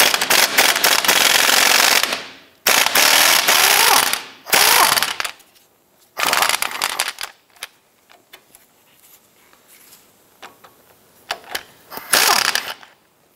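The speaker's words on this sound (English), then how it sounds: "I'm gonna use my impact gun and try and remove it from the other side." An impact gun hammers at a front lower control arm bolt on a 2008-2013 Nissan Rogue, loud rattling bursts of about two seconds each, then shorter, weaker pulses and a final burst.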